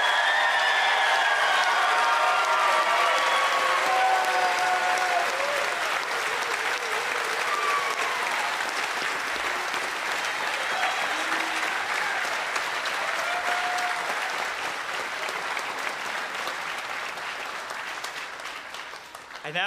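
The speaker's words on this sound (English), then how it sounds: "Let's give our graduates one big round of applause." A commencement crowd at a university graduation ceremony gives a long, sustained round of applause for the graduates, dense and even, with scattered cheers and whistles, slowly tapering toward the end.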